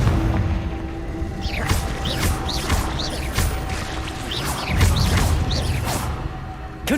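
Confringo fire spell explosions in Hogwarts Legacy, repeated whooshing, booming blasts and crashes in quick succession, fairly close and loud, with little talk.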